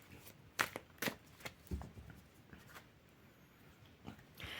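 Tarot cards being shuffled for a reading, a series of brisk papery riffles and soft slaps in short bursts, fairly quiet and close, with light rustling between them and no talk.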